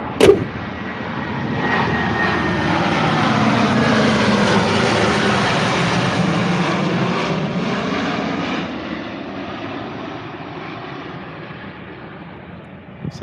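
An airplane flies overhead near an airport, its engine roar swelling as it passes close and then slowly fading, with a noticeable pitch sweep during the flyover.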